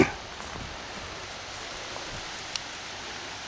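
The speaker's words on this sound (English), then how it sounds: "Look, the rain's coming right at me." Steady rain hissing and pattering, a soft continuous wash with an occasional louder drop.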